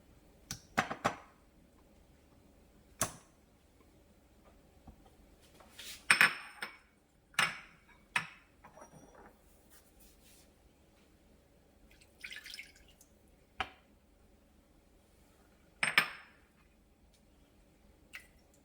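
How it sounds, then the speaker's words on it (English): Sparse utensil clinks and soft taps in a bowl while paleo chocolate cake batter is stirred together with coconut milk, vanilla extract and apple cider vinegar, dairy and gluten free; a few scattered knocks over a quiet background. "Now let's mix all the ingredients."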